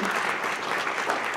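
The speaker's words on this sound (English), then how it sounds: "Please, let's give a round of applause to these NGOs who are with us." A reception crowd applauding NGO guests, a dense patter of many hands clapping steadily at moderate volume throughout, with no voices over it.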